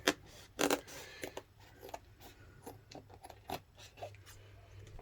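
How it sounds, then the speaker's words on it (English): Scissors snip around the edge of a clear RC car body shell for an Arrma Typhon, trimming off the overhang with a run of close, irregular cutting and rubbing sounds. "Just go around with the scissors, trim all the overhang off."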